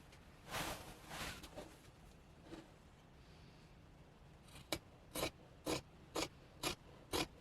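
Scissors trim fabric layers of a Christmas vest: a few soft rasping slides early, then a run of six crisp, evenly spaced snips close by, alone with no talk.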